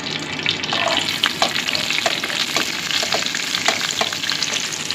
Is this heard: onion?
yes